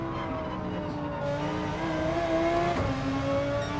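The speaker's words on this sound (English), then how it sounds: "But I mean, I'm really enjoying this new Porsche 911." A Porsche 911 in the Gran Turismo 7 racing game holds a steady engine note on the Nordschleife, pitch climbing gently through the gears and dipping once briefly, with no voices over it.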